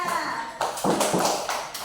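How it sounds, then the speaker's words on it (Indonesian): Schoolchildren in a classroom clap for their classmates in a few quick bursts at close range, with a voice heard just before. "Tepuk tangan untuk temannya."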